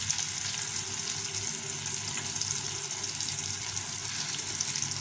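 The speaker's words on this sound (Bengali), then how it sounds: "টমেটোটা একটু ভেজে নিয়ে আমি এর মধ্যে দিয়ে দেবো কয়েক টুকরা আদা, একটু বাদাম, চিনে বাদাম" Tomato fries in a pan with ginger and peanuts, making a steady, even sizzle that holds at one level throughout, close by, with no voices.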